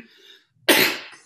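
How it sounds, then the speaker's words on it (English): A person gives one loud, close cough, then a second cough starts right after a short pause, with no talking. "I was holding in a cough."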